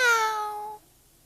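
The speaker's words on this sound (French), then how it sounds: "Miaou." A small cat gives one drawn-out meow, close and clear, its pitch sliding gently downward before cutting off into quiet.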